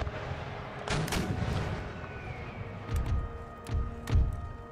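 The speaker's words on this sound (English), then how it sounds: "It's a lot of enemy artillery." Enemy artillery fire in the Empire Total War video game: a steady rumbling barrage with several heavy booming cannon shots standing out, the last one loudest, no talking.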